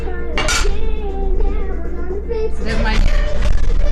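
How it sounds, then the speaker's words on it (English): A metal lid comes off a RockCrok pot with clinks and clatters of cookware, close and fairly loud, while people talk throughout. "I'm going to take off my lid here."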